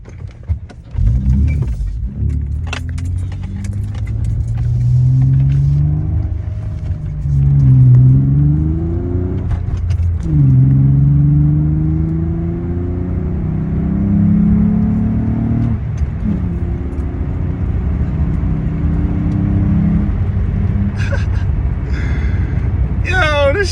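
A car with newly done exhaust work revs repeatedly, its loud, throaty engine note climbing and falling in a series of rising sweeps, close to the listener, with brief sharp noises near the end.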